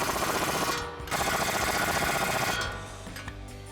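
A 24mm socket drives sway bar bolts home on a 2015 Mustang's front suspension, giving a loud, steady buzzing rattle that cuts out briefly, then continues and fades toward the end.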